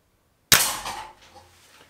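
One sharp, loud report from a Diana 34 Premium spring air rifle, a sudden crack with a short ringing tail that fades over about a second, alone with no voices.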